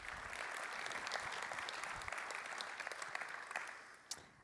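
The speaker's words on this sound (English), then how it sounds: "would you please give them a warm round of applause and welcome them" An audience at the Hort Connections 2017 horticulture industry conference session claps in steady, dense applause that fades slightly toward the end, with no voices over it.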